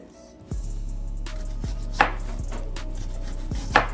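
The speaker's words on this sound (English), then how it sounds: "And then we're just going to come down with thin slices, just like this." A knife cuts an onion into thin slices on a cutting board for onion soup. Four sharp chops land at an irregular pace, each one a crisp impact over a steady low hum of room noise.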